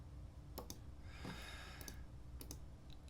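A computer mouse gives faint double clicks, sharp paired ticks spaced through a quiet room, with a soft breathy rustle between them. No one talks.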